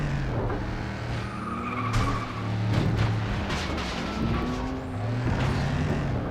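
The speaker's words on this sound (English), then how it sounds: "Hard on the brakes, probably a little too hard, so I could make it through the corner" Hard braking in the FlatOut 2 racing game on PS2, tires skidding and squealing over a continuous engine drone, with several screeching passes throughout.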